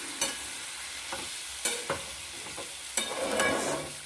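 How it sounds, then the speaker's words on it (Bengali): Puti fish and mashed fig curry being sautéed in a pan with a splash of water, a steady sizzle broken by several sharp scrapes of a spatula stirring, close and alone. "আর একটু জল দিয়ে, অল্প একটু জল দিয়ে এটা কষে নিচ্ছি।"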